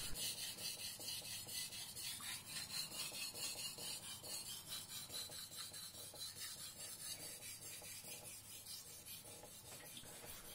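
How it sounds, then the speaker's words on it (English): A Teruyasu Fujiwara Maboroshi Shirogami #1 gyuto is sharpened on a smooth whetstone with a quiet, steady back-and-forth scraping rasp in a regular rhythm, faint and close, with no talking. "The same here, turning the angle, make sure the tip is sharpened."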